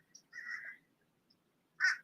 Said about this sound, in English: the birds are so lively this morning